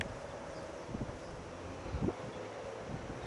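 Strong wind blows outside apartments in Japan, a steady low roar with gusty rustling and microphone buffeting, fairly faint and continuous without speech.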